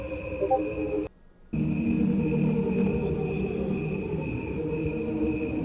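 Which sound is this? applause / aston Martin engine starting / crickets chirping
crickets chirping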